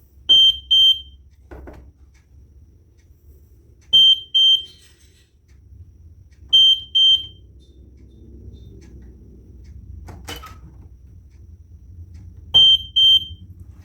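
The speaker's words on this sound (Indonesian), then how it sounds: "apakah dia akan memberikan suatu tanda, suatu alarm ketika ada getaran di sekitarnya seperti ini" Alarm from a homemade Arduino vibration sensor, sounding four times in short bursts of high steady beeps spaced a few seconds apart, with quiet background noise and thumps between.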